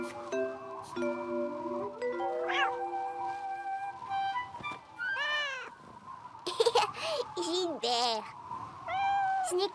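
A cat meows several times in short, rising and falling cries, mixed with playful music tones and a few sung notes nearby.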